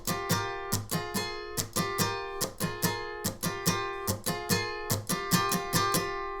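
Electric guitar picking the intro riff of a song, revival version, in a steady rhythmic pattern of ringing plucked notes that repeats about a dozen times, clear and close with no voice.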